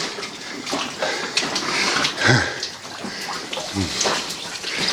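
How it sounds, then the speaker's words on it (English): Water pouring and dripping off surfaces in an old gold rush mining area, a steady splashing wash with scattered louder drips and spatters nearby. "There's lots of water pouring off of everything here, huh?"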